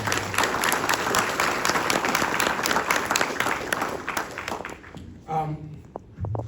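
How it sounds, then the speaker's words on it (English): Audience applause at an Army retirement ceremony, steady clapping from a gathered crowd that thins and fades out, with a voice talking over the closing seconds. "let's give them a round of applause"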